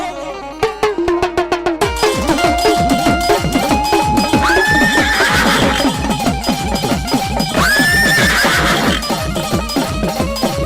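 A horse neighs twice with long rising whinnies over a steady, rhythmic clip-clop of hooves, loud and close, during a Ramamandal devotional stage performance.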